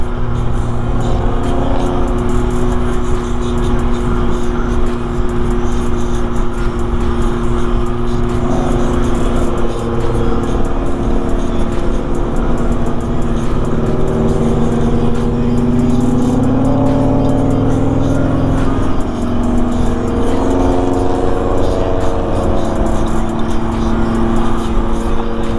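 A Subaru STI drives at speed, its engine droning loudly and continuously from inside the car with rising and falling revs as it accelerates, over steady road and wind noise.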